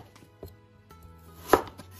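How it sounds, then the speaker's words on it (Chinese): A knife chops through a carrot into thin slices on a cutting board, a few soft taps leading to one sharp, loud cut near the end, with light knocks after it. "再给它切成薄薄的厚片"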